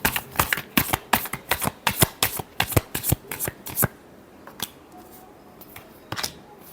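Tarot cards being shuffled by hand, a quick run of crisp riffling bursts in steady rhythm, then slower scattered shuffles trailing off, close and clear with no talking.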